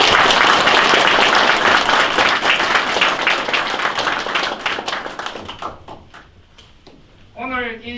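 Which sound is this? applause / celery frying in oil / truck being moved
applause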